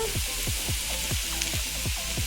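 Meat scraps sizzle and fry in a kadai over a fire, with a utensil scraping through them in a steady rhythm of about five strokes, close and alone.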